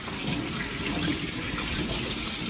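Cold tap water pours steadily into a bowl over cleaned North Sea fish, a continuous close, loud gushing splash with no talk.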